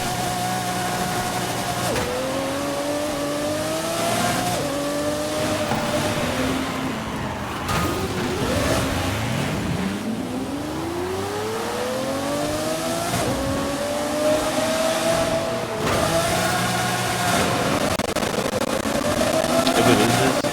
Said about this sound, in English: acceleration on this car is great